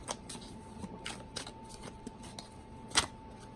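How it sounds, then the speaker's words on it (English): Tarot cards being shuffled by hand, a quiet run of soft riffling snaps and papery flicks at an irregular pace, with one sharper slap near the end, close and without talk. "as I shuffle, I'm of course trying to tap into your Capricorn energy"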